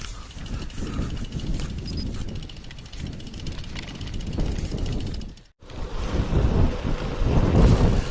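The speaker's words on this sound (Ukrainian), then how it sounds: "Вітер такий добрячий, щоправда боковий" Heavy wind rumble and buffeting across the microphone while cycling on a highway in a strong crosswind, steady and loud, briefly dropping out before gusting back in stronger.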